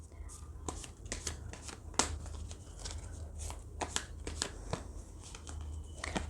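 A deck of oracle cards is shuffled by hand up close, a quick irregular flurry of crisp riffles, slaps and flicks with brief pauses between bursts.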